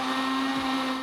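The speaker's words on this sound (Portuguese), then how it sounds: "E agora a gente vai bater mais." A kitchen blender whirs steadily at full speed, close and loud, mixing batter with coffee and chocolate powder in a continuous motor hum with no talking.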